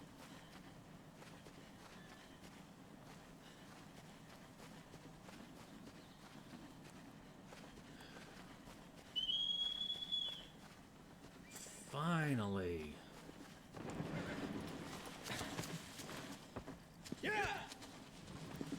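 Horse hooves in the video game Shadow of the Colossus, a quiet rhythmic clip-clop that runs in the background while a voice speaks briefly and exclaims.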